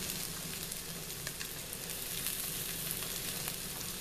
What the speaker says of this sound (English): Now, you can probably tell the pan is oiled. So they're going to be cooked in oil.